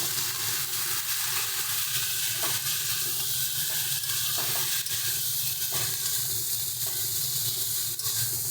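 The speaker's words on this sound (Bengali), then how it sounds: "ভালো করে আলু আর মশলার সঙ্গে মিশিয়ে দিচ্ছি।" Drumsticks are stirred with potatoes and spices in a hot pan, a constant close sizzle and hiss with soft scraping strokes of the stirring spoon throughout.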